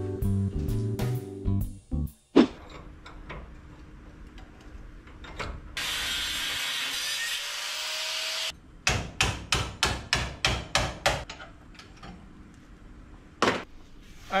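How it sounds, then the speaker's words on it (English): Rivets being knocked out of a rat rod tail light bracket with a hammer and tools, giving a close sequence of sharp metallic strikes and clanks, a sustained grinding-like whir midway, then a rapid run of loud regular hammer blows. "Let's just get these rivets apart."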